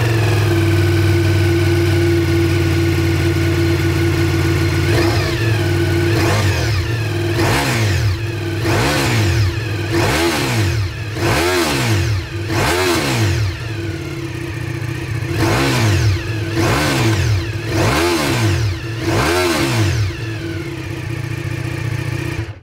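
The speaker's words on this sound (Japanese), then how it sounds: "ではエンジンをかけてみましょうか。" A Ducati Multistrada V4 S motorcycle engine idles loudly up close, then is revved repeatedly in quick bursts, each rev rising and falling, with no talking.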